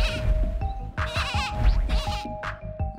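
A little cartoon lamb bleats in a string of loud, close, quavering cries that come in quick bursts over a light musical backdrop.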